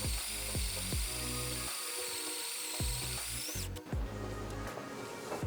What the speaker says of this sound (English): we're going to cut a 1 1/2 inch hole at that mark